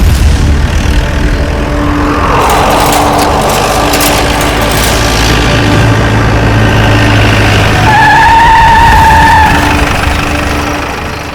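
A car screeches and skids to a stop, a long loud tire squeal over engine roar that rises and then settles, heard without talking.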